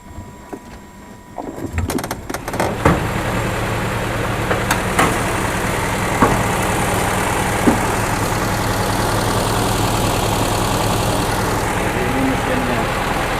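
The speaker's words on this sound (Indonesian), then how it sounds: "Ini mesinnya" A 1964 Mercedes-Benz 190 with a small four-cylinder engine idles steadily at close range, a continuous low rumble that settles in after a few seconds of handling noise, with people talking over it.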